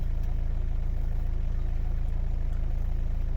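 A warmed-up VW Caddy 1.9 TDI diesel engine idling, a steady low rhythmic clatter heard close and unchanging, with no one speaking.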